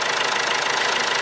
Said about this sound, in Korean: 엔진 소리는 굉장히 조용하네.